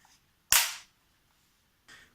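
An AK rifle charging handle fitted with a new knob is racked, one sharp close metallic clack followed by a fainter second clack about a second and a half later.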